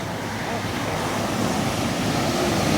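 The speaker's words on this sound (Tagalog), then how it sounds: "Lakas ng alon" Strong sea waves crash and wash continuously onto a beach in Ilocos, a loud, dense roar with wind buffeting the microphone.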